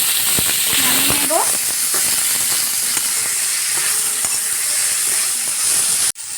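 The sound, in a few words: Malabar spinach (puishak) sizzling as it is added to frying pan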